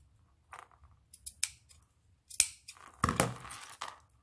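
Scissors snip through a craft ribbon for album jewelry, giving several crisp, close cuts in separate bursts with brief quiet gaps between them and no talk over the sound.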